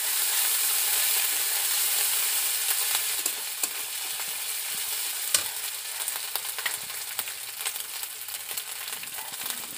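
Onion paste and ginger paste frying in a pan while being stirred, giving a steady soft sizzle with scattered scraping and clicking stirring sounds that grow busier in the second half.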